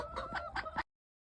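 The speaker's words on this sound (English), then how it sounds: "That chicken just ate a little mouse" A chicken clucks in a quick run of close, raspy notes, then the sound cuts off abruptly into silence.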